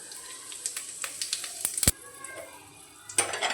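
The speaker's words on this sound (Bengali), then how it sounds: "তেলটা খুব ভালো করে গরম করে তার মধ্যে দিয়ে দেব 5 ফোড়ন আর একটা শুকনো লঙ্কা" Panch phoron and a dried red chili sizzling in hot mustard oil in a kadai, a close crackling fizz with irregular spitting pops and a few sharper spatters.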